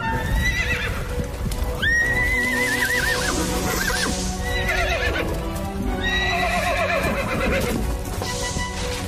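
Horses trapped in a burning barn neigh and whinny repeatedly in long wavering cries over a dense, constant roar and clatter of movement, loud and close throughout.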